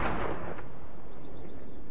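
A heavy naval gun from the St Louis cruiser in World of Warships fires one booming blast that decays quickly into a low rumble, with no voices.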